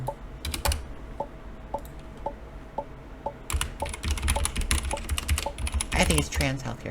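Rapid clicking of fingers typing on a computer keyboard, a steady patter of keystrokes that grows busier and louder toward the end, with faint periodic ticks in the background.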